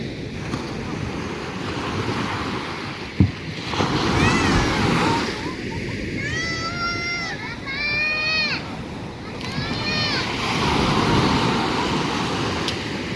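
Sea waves wash and surge continuously in the background, with steady wind noise over the microphone, while beach swimmers talk nearby and birds chirp briefly.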